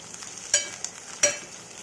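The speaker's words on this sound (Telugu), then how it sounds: "ఆ తర్వాత ఉల్లిపాయలు, పచ్చిమిర్చి, కొద్దిగంత కరివేపాకుని వేసి ఒకసారి కలుపుకోవాలండి" Onions, green chilies and curry leaves sizzle softly in hot oil, with two quick stirring scrapes cutting through the low frying hiss.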